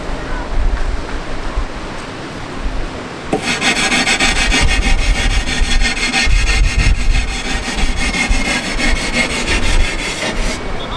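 Silicon carbide sandpaper sanding by hand, a steady loud rasping scrub that starts after a few seconds and keeps going without pause, close by and alone.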